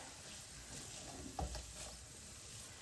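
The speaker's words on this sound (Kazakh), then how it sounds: "Сәбізімізді салып, тағы да осылай 10 минуттай баяу отта қуыратын боламыз." Carrots frying slowly in a pan over low heat, a soft, steady sizzle running throughout with one brief clatter near the middle, no voices.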